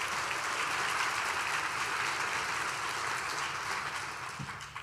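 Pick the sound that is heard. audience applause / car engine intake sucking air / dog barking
audience applause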